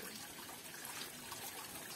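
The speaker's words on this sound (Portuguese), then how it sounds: "lavando este carrinho com a água das rochas" Spring water running from the rocks at Fonte Grande in Tacaratu pours over a small toy car, a steady, faint splashing and gushing with no voices.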